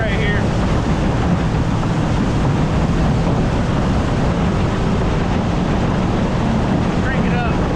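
A motorboat crossing Lake Sinclair at under half throttle, around 22 miles per hour: a steady, loud wash of engine, hull and wind roar with no breaks, close to the microphone.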